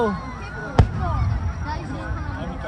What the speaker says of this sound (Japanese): あみちゃん、あの花火もね、いろいろテーマがあるみたいで、京都だったり、お花だったり